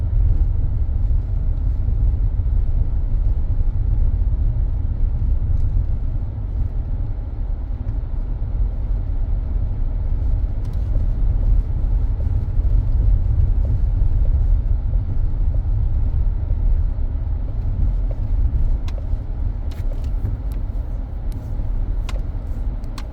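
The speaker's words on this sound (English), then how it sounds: "Even though today is a Sunday, there's still quite a bit of traffic on the road" Sunday road traffic rolls along a highway in St. Michael, Barbados, heard as a steady low rumble of car and engine noise from inside a moving vehicle, continuous and fairly loud with no talk.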